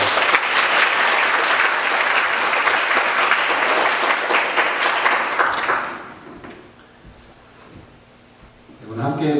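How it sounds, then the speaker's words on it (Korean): A church congregation gives a dense round of applause to welcome a visiting deacon, loud for about six seconds before fading into quiet room tone and a brief voice. "잠깐 일어나시면 저희가 박수로 환영하겠습니다."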